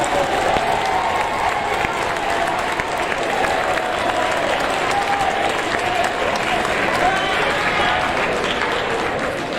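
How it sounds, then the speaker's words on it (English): A large crowd at an 8th grade awards ceremony gives sustained, even applause throughout, a steady wash of many hands clapping in a big hall with faint crowd murmur underneath. "Let's have a round of applause for them."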